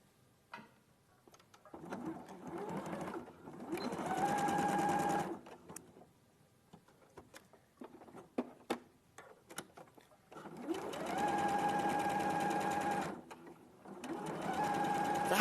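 Sewing machine top stitching along a seam, using the original seam as a guide, runs in two long, steady bursts with quiet pauses and small handling clicks between them, close and clear.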